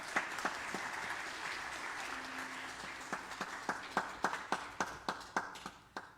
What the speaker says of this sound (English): let's receive our mayor with a warm applause